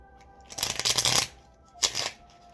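Tarot cards being shuffled by hand, two quick papery riffling bursts close up, a longer one followed by a shorter one, with no talking.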